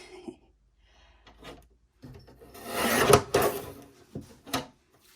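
A new paper guillotine slices through a sheet, giving a few dry rasping, scraping strokes and a firm clunk of the blade amid quiet pauses, close and fairly soft.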